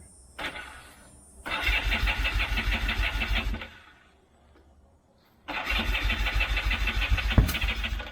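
A vintage carbureted motorcycle engine is cranked on its starter: a brief sputter, then it catches and runs loudly for a couple of seconds, falls silent, and fires up again into a steady, close running beat.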